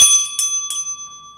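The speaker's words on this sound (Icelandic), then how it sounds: "Hér hefur forseti fengið tækifæri til þess að hringja bjöllunni." A council president rings a small hand bell in a city council chamber, giving a bright metallic ring with two quick strikes and a lingering tone that fades, with no one talking.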